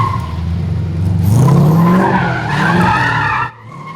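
A BMW E36 drift car spins donuts, its engine revving as the tires squeal and skid loudly for several seconds before the noise cuts off abruptly near the end.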